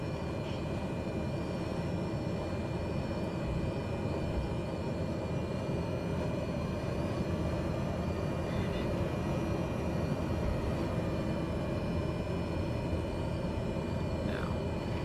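Steady broadband roar of propeller engines running at maximum RPM inside a small turboprop cabin on the runway at Lizard Island before takeoff, loud and constant throughout with a faint tonal whine above.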